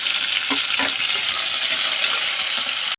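Onions, green chillies and curry leaves fry in a pan with a loud, dense, continuous sizzle and a couple of soft stirring knocks near the start, then it cuts off abruptly.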